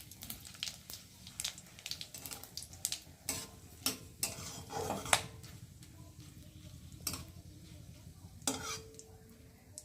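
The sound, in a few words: frying spice tempering with dried chili in oil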